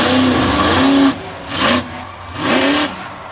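Monster truck engine revving hard during a stoppie at an off-road event, three loud rising roars, each falling back between bursts, close and unaccompanied by talk.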